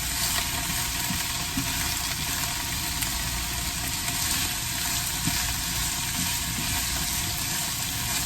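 Brussels sprouts sizzle in olive oil in a pan, a steady close crackling hiss with faint occasional pops and stirring, no voices.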